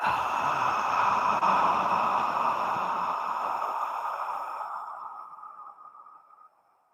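A long, steady exhale during pranayama yoga breathing in a hot yoga class, a close breathy rush of air that holds evenly and then slowly fades away to silence.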